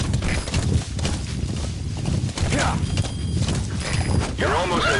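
Horse hooves clip-clopping in Metal Gear Solid V, a steady trotting rhythm heard up close amid game ambience and mechanical noise.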